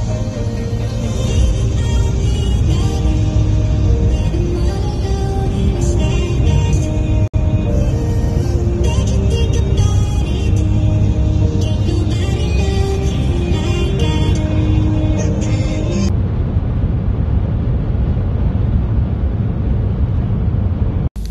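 A car drives along a road toward Stuttgart. A loud, steady engine and road drone holds throughout, with wind rush and rumble from inside the cabin. The sound cuts off abruptly at the end.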